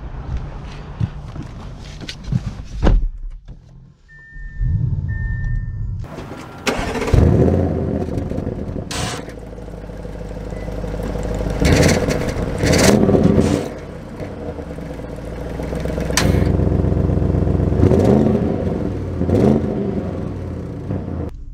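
2023 Audi RS6 Avant engine: a few clicks, then the starter catches and the engine fires with a loud burst, settling into a deep idle punctuated by several strong revs that swell and fade, close and alone.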